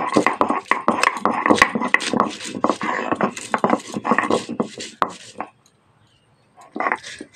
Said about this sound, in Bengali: আদা লঙ্কাটাকে শিলনোড়ায় বেটে নেবো।